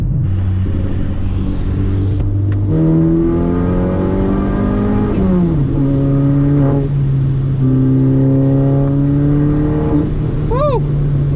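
A Chevy Cobalt SS pulls hard through third gear, its engine note climbing steadily in pitch with a brief dip mid-run, loud and close from inside the cabin.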